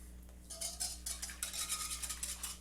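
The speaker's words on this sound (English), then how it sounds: "And we're just going to whisk that in." A whisk rhythmically scrapes and taps as dry mustard powder is beaten into liquid in a bowl, quiet and close, with a low hum underneath and no talk.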